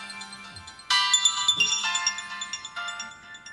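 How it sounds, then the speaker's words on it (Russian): An HTC Wildfire smartphone ringtone plays as a bright, tinkling melody that starts loud and clear, then drops noticeably in volume partway through as the handset is picked up, continuing softer to the end. "Аппарат снижает громкость звонка,"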